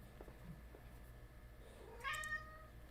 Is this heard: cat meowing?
yes